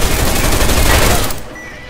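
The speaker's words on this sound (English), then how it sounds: "Here we've used an EMP frag grenade to disable the turret and armor-piercing bullets to destroy it." Loud, rapid gunfire of armor-piercing rounds hits a turret in the video game Deus Ex: Mankind Divided, a dense close burst lasting over a second before trailing off.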